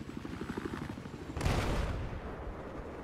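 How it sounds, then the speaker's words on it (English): A Little Bird helicopter in Battlefield 4 flies with a rhythmic rotor chop, then a sudden loud rushing burst midway that fades into a steady engine roar; no voices. "love to be able to take off in a heli, fly for a few minutes, instead immediately crashing every time"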